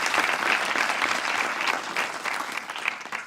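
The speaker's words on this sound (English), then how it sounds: "let's give our colleagues a warm round of applause" An audience at a university awards ceremony gives a warm round of applause, with continuous dense clapping throughout, loud and even, with no speech.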